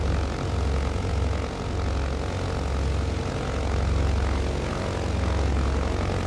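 Twin propeller engines of a BN2 aircraft in Microsoft Flight Simulator drone steadily at close range, a loud, even throbbing hum with no talk over it.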